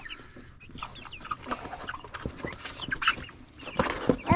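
Young laying hens cluck and chatter in a new henhouse, a busy overlapping flock of short clucks and calls close by, with scattered louder squawks toward the end.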